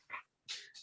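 A dog gives a few short, faint whimpers, three brief high whines close to the microphone.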